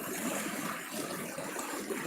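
Floodwater rushes through a rapids at Ban Na Wiang Kham Siri in Yasothon province, Thailand, as a steady, fairly faint roar with no voices over it.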